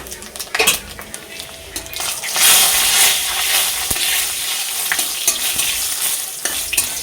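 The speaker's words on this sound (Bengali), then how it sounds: "এখানে ফোড়নে নিয়েছি তেজপাতা, শুকনো লঙ্কা, 5 ফোড়ন দিয়ে দিলাম তেলের মধ্যে" Bay leaf, dried red chillies and five-spice seeds crackle and sizzle in hot oil, joined by clinks and scrapes of a spoon stirring in the pan and a sharp tap or two, without speech.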